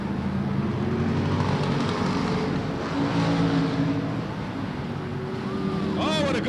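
Race cars at Silver State Raceway in 1994 roar steadily through a battle for fifth place, engine drone loud and continuous with a rising whine near the end, while a commentator talks over the action.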